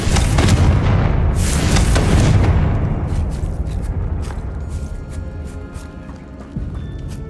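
A spell explosion from the Hogwarts Legacy video game: a heavy, loud booming blast opens and then rumbles and slowly decays into a rolling tail, with a faint thud near the end and no talking.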